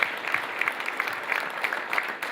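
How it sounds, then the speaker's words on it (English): An audience applauds presenter Thomas at an energy event in Boston, steady moderate clapping from a crowd that holds evenly throughout, with no talk over it. "Round of applause for Thomas"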